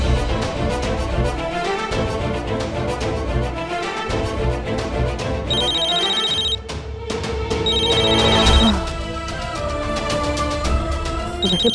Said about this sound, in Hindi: मेरा नहीं, निशी का फोन बज रहा है।